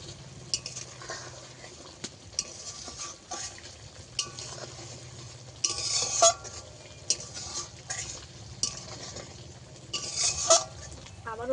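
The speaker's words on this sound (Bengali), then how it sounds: "নেড়ে দেব।" Steamed prawn dish (chingri bhapa) being stirred in a pan after uncovering, with intermittent scraping and clinking of a utensil against metal and a soft sizzle underneath, close and moderately loud.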